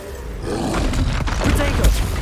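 Spells cast in Hogwarts Legacy, including a Bombarda explosion, come through as a dense, loud roaring rumble with booming impacts and bursts layered over one another, alongside a spoken voice.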